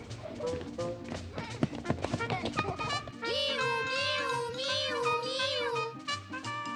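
Kittens in a kids' bedtime video game give a run of high, drawn-out meows over light tapping and playful game sounds, all close and clear.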